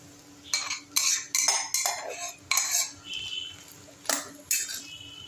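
A metal spoon stirs mashed roasted brinjal into a cooked mixture for bharit, giving a run of separate clinks and soft squelching scrapes against the pan at a steady, unhurried pace, fairly close and with no talking.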